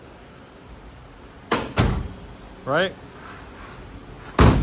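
A Ghostbusters Afterlife ECTO-1 replica car's door shuts with solid thuds, two quick impacts followed by a third heavier slam a few seconds later, with a brief voice between them.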